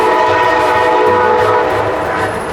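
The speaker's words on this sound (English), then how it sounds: "If you can hear that train in the background," A train passes Old Town San Diego station, sounding a loud, sustained horn over rumbling wheels that starts to ease toward the end.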